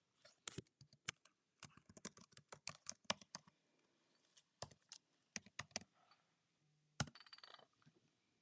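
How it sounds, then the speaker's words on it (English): Typing on a computer keyboard: bursts of quick, close clicking keystrokes with short pauses between runs, fairly quiet, with no talking. "Let me type it better."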